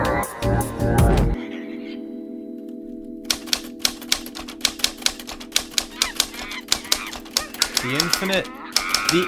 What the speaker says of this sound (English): monkeys hitting keys at random on an infinite number of typewriters